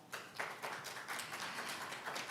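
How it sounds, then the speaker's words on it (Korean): Faint, steady applause from a conference audience at a Korean ESG forum, a continuous wash of many hands clapping at a distance with no voices over it. "다시 한번 여러분 큰 박수 부탁드리겠습니다"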